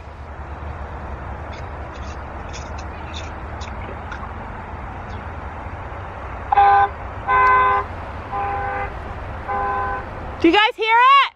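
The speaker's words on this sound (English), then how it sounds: "Honk, and so we can hear if you're close." A car horn honks in five sustained blasts of differing lengths, fairly far off across a trail, over low steady background rumble, followed by a person speaking up close.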